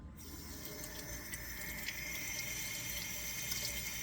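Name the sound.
tap water running through vegetables to rinse out dirt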